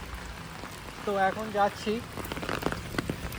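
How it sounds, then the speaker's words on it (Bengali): Heavy rain falls at night in Bombay, a dense steady hiss of drops on surfaces running throughout while someone speaks briefly in the foreground. "আর বম্বে কী হারে বৃষ্টি হচ্ছে"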